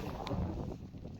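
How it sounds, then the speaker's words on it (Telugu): Wind gusts across open reservoir water, producing a rough, rumbling buffet close to the microphone with a faint brief tap partway through and no talk. "నీళ్ళ మీద అయితే మొత్తానికి అయితే గాలి అయితే లేచిందండి"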